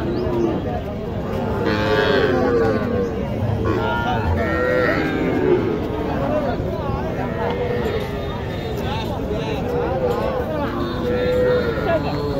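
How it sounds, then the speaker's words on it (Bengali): Bull calves at a cattle market lowing again and again over a busy crowd, several overlapping moos near and farther off, with people talking throughout. "এগুলো সব হচ্ছে ষাঁড় গরু, সব ষাঁড় বাছুর"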